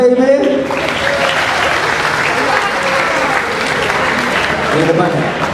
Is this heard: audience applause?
yes